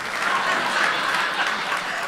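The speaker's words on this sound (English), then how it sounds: "We'll give this man a round of applause" Comedy club audience applauding a stand-up comedian, a steady dense wash of clapping close by that holds evenly throughout with a few scattered chuckles mixed in.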